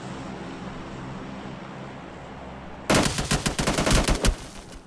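Gunfire in the mobile battle-royale game PUBG Mobile breaks the quiet after a few seconds: a loud, close burst of rapid automatic shots lasting about two seconds.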